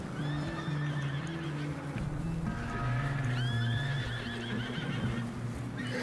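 A horse in Red Dead Redemption 2 whinnies loudly twice, high shrill neighs rising and falling, over steady clip-clopping hooves and a low droning background.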